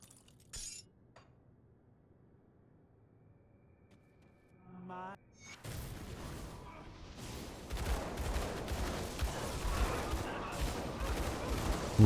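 A boss's shotgun attack in a video game sounds as a sudden dense barrage of crackling, glassy bursts that swells to a loud continuous roar, following a quieter stretch of scattered game effects.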